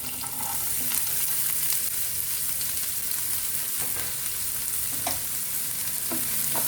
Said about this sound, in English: I have taken a pan, put about half a spoon of cumin seeds, and the onions.